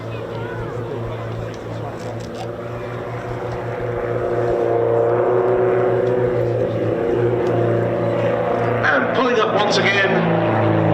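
Firebirds aerobatic display aircraft run in toward the crowd at the East Kirkby airshow, a steady engine drone with strong low hum that swells louder midway as they close in, under a commentator's voice over the public address.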